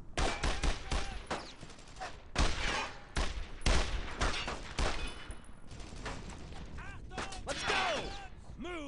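Squad gunfire crackles through a Brothers In Arms: Road To Hill 30 firefight, repeated rifle and machine-gun bursts with sharp impacts and whizzing, a loud irregular barrage with faint voices mixed in.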